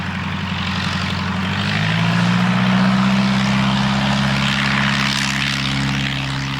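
A de Havilland Tiger Moth biplane's propeller engine drones steadily and loudly throughout, its pitch rising slightly as the engine note swells midway, with no voices present.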